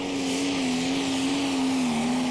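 Pulling tractor engine at a Eurocup tractor pulling event in Brande, Denmark, holds a loud, steady high-revving drone near 6,000 RPM with slight pitch wavering, with no talking.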